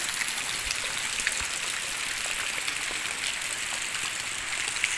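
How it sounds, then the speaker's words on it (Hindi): Rain falls in a village as a constant close hiss of drops hitting surfaces, with faint patters scattered through it and no voices. "पूरा बारिश ही हो रही है।"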